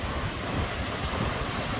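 Ocean surf rolls in at Macumba beach in Recreio dos Bandeirantes, Rio de Janeiro, a continuous broad roar of breaking waves mixed with wind buffeting the microphone.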